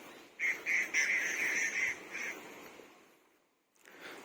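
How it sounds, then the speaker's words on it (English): Morning birds along a straight hill road give a run of close quacking, honking calls in quick bursts, then fall quiet before a brief faint call returns. "It's morning time and number of birds are flying around here and there."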